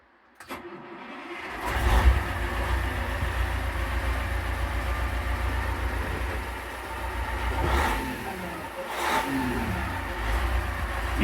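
The Cummins engine of a Ford FW30 tractor cranks and catches, then settles into a loud, deep running rumble with a couple of swelling revs, heard up close.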